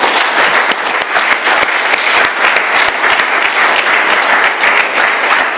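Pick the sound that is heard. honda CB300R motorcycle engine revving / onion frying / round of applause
round of applause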